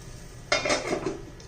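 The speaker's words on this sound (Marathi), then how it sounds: "त्याच्यावरती झाकण घेऊया" A lid set down on an appe pan while sprouted moong appe cook, giving a sudden close metallic clank followed by a few softer rattles and light clinks over a faint background hiss.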